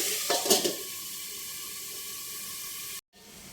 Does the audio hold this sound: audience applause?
no